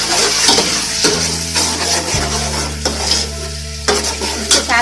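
Green onion whites tossed into a hot frying pan for vegetable fried rice, sizzling loudly up close with repeated scraping stirs of a spatula and clinks against the pan.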